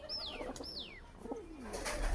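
A pigeon on a rooftop coos close by, giving a few gliding, falling calls in a short sequence over faint outdoor background noise.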